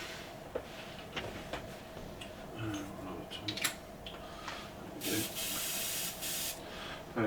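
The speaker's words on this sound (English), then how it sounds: "The only trouble with this nozzle is that it spits it absolutely everywhere." Pledge floor care sprays from a nozzle in short hissing bursts, ending in a longer spritz. Background noise and small clicks surround the bursts.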